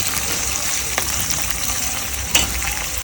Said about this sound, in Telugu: ఫైనల్ టచ్ గా అమ్మ పకోడీలు కూడా వేసింది